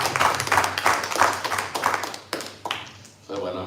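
A church congregation claps in acclamation with quick, rhythmic, fairly close claps under an ongoing voice.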